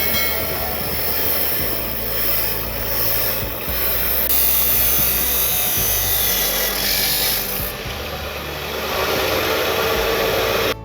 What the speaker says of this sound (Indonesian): sejumlah knalpot racing turut dimusnahkan dengan cara memotong menjadi dua bagian dengan mesin